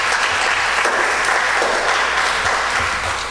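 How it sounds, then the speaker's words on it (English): A festival audience at a school arts and culture preliminary gives itself a round of applause, a loud, dense, continuous roar of many hands clapping, steady throughout with no voices. "I want you to give yourselves a round of applause"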